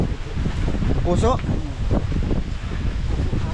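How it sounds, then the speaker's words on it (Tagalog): Strong wind buffets an open-air spot near a fishing net by the water, roaring and rumbling against the microphone throughout while someone speaks briefly over it. "lakas ang hangin mga idol oh"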